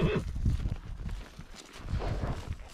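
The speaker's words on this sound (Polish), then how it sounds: "koń, za którym tak strasznie teraz nawołuje" A horse neighs and its hooves clip-clop on a ride through open countryside, moderately close, with low thuds and calls spread across the short stretch and no speech.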